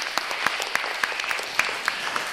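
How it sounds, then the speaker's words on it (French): An audience at a conference applauds, a dense, steady clatter of many hands clapping close by with a few sharper individual claps standing out, and no voices over it. "Je crois que vraiment, on peut l'applaudir d'abord."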